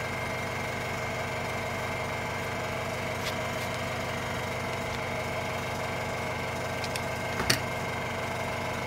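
An old 1970s air compressor runs steadily throughout, a constant mechanical drone with even vibration and faint clicks near the end, at a moderate level with no talk.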